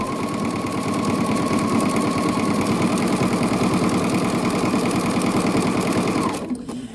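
A sewing machine stitches a rope scrap basket in a fast, steady mechanical whir with rapid even ticking, loud and close, then winds down abruptly near the end.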